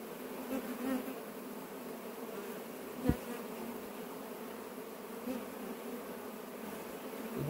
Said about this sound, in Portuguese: Abelha que tá chegando.